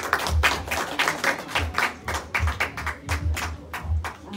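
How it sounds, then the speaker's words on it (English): Warm round of applause at a debutante's eighteenth birthday celebration, honoring her parents; distinct individual claps form a steady, moderately loud patter with no talking over it. "Let's give them a warm round of applause."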